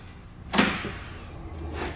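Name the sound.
fire truck side entry door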